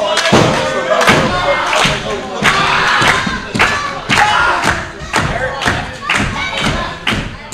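Wrestling crowd roaring for Violence at a hardcore fight tournament match in Ridgefield Park, with loud sustained cheering broken by repeated heavy thuds and slams roughly every half second to second, commentary voices mixed in.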